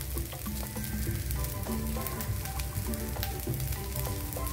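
A rava masala uttapam sizzles steadily on a hot pan, a continuous close frying hiss with faint crackles and no voices.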